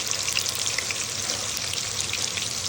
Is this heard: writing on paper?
no